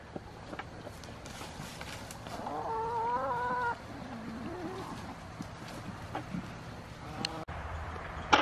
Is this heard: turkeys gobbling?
yes